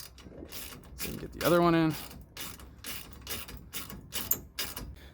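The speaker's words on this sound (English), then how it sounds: "Ratchet this bad boy down." A ratchet wrench tightens a 9/16 bolt on an Overland Vehicle Systems Nomadic 270 awning bracket, making steady close clicking throughout while someone talks over it.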